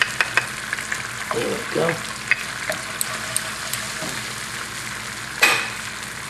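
Oyster sauce hits a hot pan and sizzles steadily, with a few utensil clinks and stirring scrapes over the frying hiss, and a short spoken phrase.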